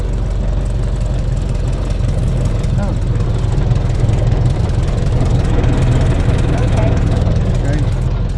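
A 1925 Model T Ford engine idling with a steady, low, throbbing rumble that holds close and even throughout, with a voice talking over it.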